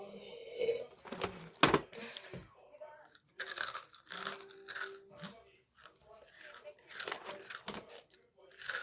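Crunchy sugar crumble cookie, chili flavor, eaten close up, with repeated crisp bites and chewing crunches in irregular bursts, broken by quiet pauses and some speech.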